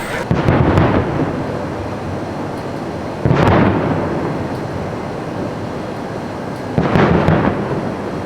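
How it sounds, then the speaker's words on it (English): Distant Disney fireworks heard from inside a hotel room: three deep, muffled booms spaced a few seconds apart, each rolling away slowly against a quiet background. "you can actually hear the fireworks from my room."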